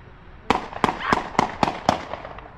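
Six sharp gunshot-like bangs ring out at a steady, slightly uneven pace, loud and crisp with short echoing tails.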